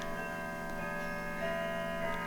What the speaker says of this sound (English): Do you hear that? It's a clock.